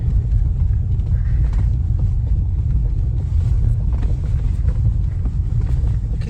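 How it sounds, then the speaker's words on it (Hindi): A vehicle rolls off-road on a rough track toward a South Goa beach, a steady low rumble with wind buffeting the microphone and occasional knocks and jolts throughout, with no one speaking. "और पूरा का पूरा अभी ऑफ रोडिंग"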